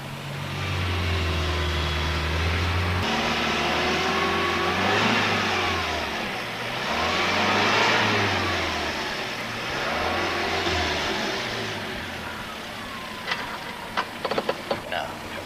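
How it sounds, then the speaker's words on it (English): A car drives along during a driving test, its engine droning and rising and falling in repeated gear changes and accelerations, with a voice speaking over the engine and a few clicks near the end. "Now, drive to the junction, turn right, and then drive back to the test centre."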